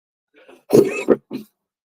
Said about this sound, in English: while I clear my throat